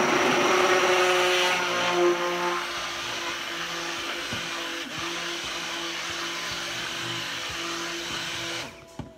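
A stick blender whirs loudly in a batch of soap batter, its motor whine steady then slightly lower as it works, with small bumps against the container before cutting off.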